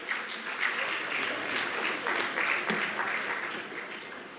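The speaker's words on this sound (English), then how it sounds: "Please give him a round of applause." Sustained audience applause at a bank's annual meetings as a former prime minister is welcomed, a steady even wash of many hands clapping for several seconds without speech.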